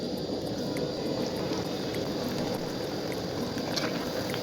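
Semolina pitha dumplings frying in hot oil make a steady, even sizzle and bubbling hiss that carries on without a break, close and moderately loud, with faint clicks scattered through it.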